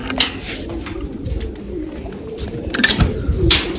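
Pigeons coo in low, throaty rumbles at close range, with a few brief sharper sounds over the soft steady murmur.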